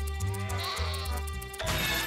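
Cartoonish sheep bleat repeatedly while being sheared in the Rayman Raving Rabbids video game, layered over a steady game music bed, with a brighter burst of sound near the end.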